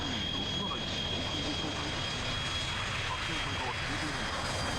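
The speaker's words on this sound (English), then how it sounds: "I love the sound of jet engines." Jet engines of aircraft in the Muv-Luv Alternative video game, a loud steady roar that fills the whole clip with a faint high whine on top.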